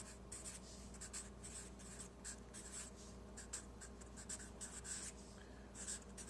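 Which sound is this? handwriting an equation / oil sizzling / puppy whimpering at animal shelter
handwriting an equation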